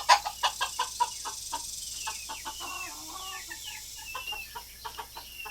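Backyard hens cluck nearby in a run of short, rhythmic clucks, with softer chirps and calls from other birds in the background.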